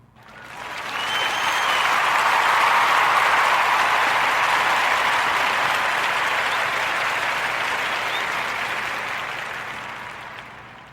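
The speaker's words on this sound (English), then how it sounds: "join me in giving Ed Hennings a warm narrative podcast round of applause for his many, many entrepreneurial endeavors" A warm round of applause from a podcast audience swells quickly into sustained, dense clapping, loud and close, holding steady for several seconds before slowly tapering off.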